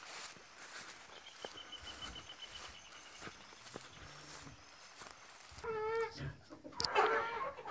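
A hen with two young guinea fowl chicks on a farm: faint clucking and soft peeping at a distance, with light footsteps and rustling, growing busier and louder toward the end.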